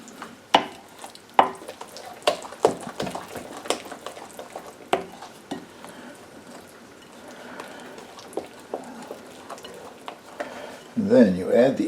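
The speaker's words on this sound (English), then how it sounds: "Just get stirred until it's combined here." A utensil stirring a tepid yeast mixture for stollen dough, giving repeated irregular scrapes and taps against a bowl that are close and fairly quiet. A voice speaks briefly near the end.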